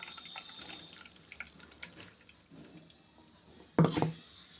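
Water is added to strained pearl millet (kambu) milk in a kitchen. Faint clinks and handling noises lead up to a short, loud splash of water near the end.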